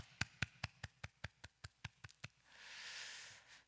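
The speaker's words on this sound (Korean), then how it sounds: "하나님께 영광의 박수 돌려드립니다." A congregation claps together in a steady, evenly spaced rhythm of about a dozen claps during an online Friday prayer meeting at church, faint and distant, then fades into a soft swell of ambient noise.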